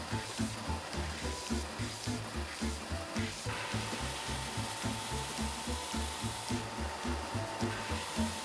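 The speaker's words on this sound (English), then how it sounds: "I'm going to take this belt sander, I'm going to move the belt just a little over this way so it's right on the edge, and then I'm going to start sanding" A belt sander grinds lumpy bits off a piece in a Rubik's Cube build, a continuous rough rasping drone with a steady pulsing texture, close and loud, with no talk.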